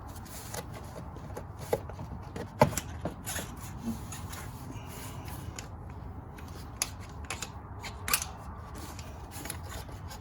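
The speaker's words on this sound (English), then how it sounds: "Let's go ahead and break this seal." Seal being broken on a 2016 Dodge Charger R/T 5.7 water pump during removal, heard as scattered sharp scraping and cracking clicks over a low workshop hum, with a few louder snaps spread across the stretch.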